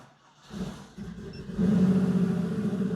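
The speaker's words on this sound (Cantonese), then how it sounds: "啲車太舊咧，有陣時真係難撻啲。" An old manual-transmission car brought to Hong Kong from the UK cranks and catches, its engine rising into a rough, steady mid-pitched idle rumble close by, with no talking.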